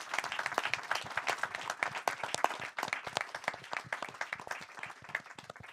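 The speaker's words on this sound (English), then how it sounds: "A massive round of applause for yourself and them." Audience applause from a crowd at a panel talk on city design, a lively patter of many hands clapping that stays fairly steady, then thins slightly toward the end.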